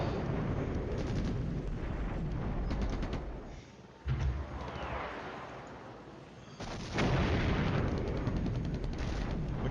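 Artillery fire in the Cold War wargame Flashpoint Campaigns, heard as faint rolling booms and rumbling impacts in a few distinct bursts against low background noise, with no talking.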